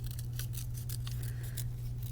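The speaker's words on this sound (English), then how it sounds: "And then you can take your scissors and cut out on that" Scissors cut paper along a drawn line in a steady run of rapid, crisp snips, close and continuous over a constant low hum, with no talking.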